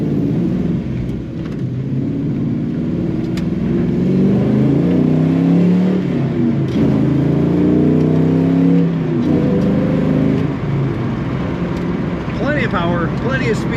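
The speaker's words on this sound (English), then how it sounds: "Just a beautiful rumble coming out the back of this car." A 1978 Chevrolet El Camino restomod with manual transmission revs and accelerates, its loud, steady engine rumble and exhaust note building through the drive, with a voice briefly speaking near the end.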